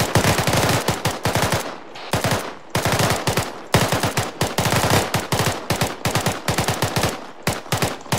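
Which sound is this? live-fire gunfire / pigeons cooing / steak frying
live-fire gunfire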